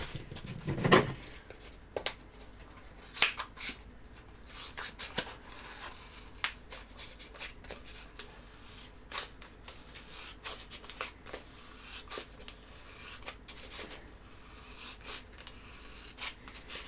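A large circle being cut out by hand for a homemade cage: sparse, close snipping and scraping sounds in irregular bursts against a quiet background, with no talking.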